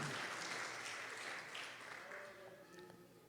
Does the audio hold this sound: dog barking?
no